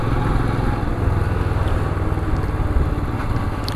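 Motorcycle engine on a mountain road trip between Kargil and Leh, a steady close throbbing run with no break, heard alone without voices.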